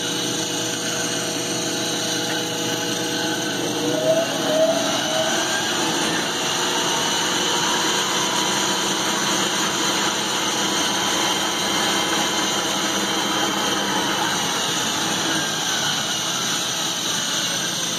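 A treadmill motor drives an Atlas/Craftsman lathe under potentiometer speed control, giving a steady whining hum with broadband whir that stays even and close throughout and never varies in pitch.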